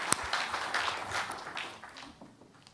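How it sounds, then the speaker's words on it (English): Conference audience applauding, dense scattered clapping that starts loud and slowly thins and fades over a few seconds. "I think before, a big round of applause"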